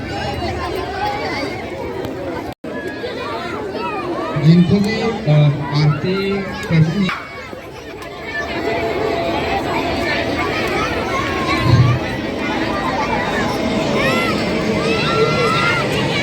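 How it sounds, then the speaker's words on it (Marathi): Dense crowd hubbub at a large, packed Marathi gathering, a steady wash of overlapping voices and movement throughout, with louder bursts of nearby talk in the middle. "खूप गर्दी आहे ना आता"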